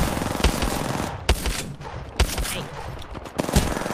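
Video game guns fire in loud bursts of rapid automatic shots, broken by a few sharper single cracks, close and dense with no talking over them.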